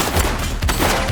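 Dense gunfire from a suspect in the police video game The Precinct: a loud, continuous burst of rapid shots filling the clip with barely a break.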